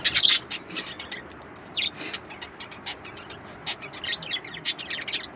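Budgie chicks from a breeding setup chirp in rapid, overlapping high tweets, close and fairly loud, in busy bursts throughout with no talk.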